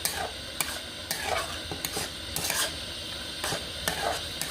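Chhana being stirred and mashed together in a pan for mango sandesh, with steady scraping strokes and periodic sharper clicks of the spatula against the pan, close and fairly quiet, no voices.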